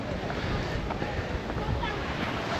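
Wind on a coastal path on the Isle of Wight, heard as a steady, fairly loud rushing buffet across the microphone with no pauses, in a short continuous stretch.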